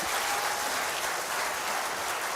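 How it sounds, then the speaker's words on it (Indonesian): An audience at a university rector candidates' debate claps together in a dense, continuous wash of applause at moderate distance, steady for the whole stretch with no speech. "Terima kasih, tepuk tangan."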